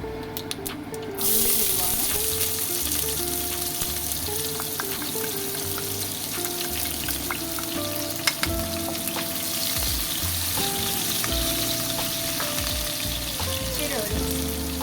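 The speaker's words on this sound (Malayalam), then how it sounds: "ഉള്ളി അരിഞ്ഞു വെച്ചേക്കുന്ന ഇടുവാണ്" Chopped onions go into hot olive oil with popped mustard seeds for a baby jackfruit stir-fry, starting a close, steady sizzle that runs throughout, punctuated by occasional clicks and scrapes of stirring.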